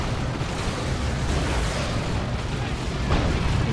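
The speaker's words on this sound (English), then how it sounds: "Las Cannon takes down the tank" A lascannon destroying a tank in the strategy game Dawn of War 2, a dense roar of blasts and explosions that stays loud throughout, with battle noise layered on top.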